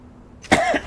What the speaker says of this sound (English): I'm coughing way too much.